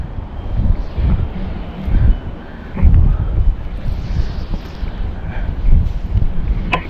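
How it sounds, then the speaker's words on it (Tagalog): Strong wind buffets a microphone on a boat at a fish pen, a loud continuous rumbling roar with gusty surges and low thumps, no clear voices. "Dito tayo kahit mahangin"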